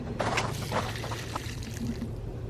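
Water poured from a watering can into a winter plant pot, a soft, close splashing trickle with a few brighter spatters, fairly quiet and steady for a couple of seconds.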